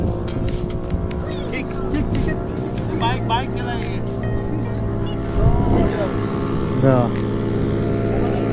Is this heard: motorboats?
yes